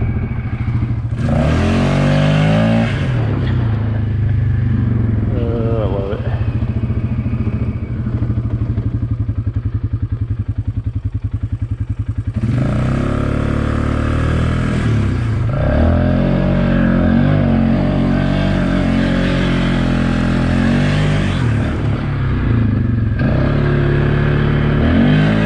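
Motorcycle fitted with a new clutch kit, revving and accelerating hard in bursts of loud, rising engine roar with clattery mechanical noise between them, recorded close up with no talking.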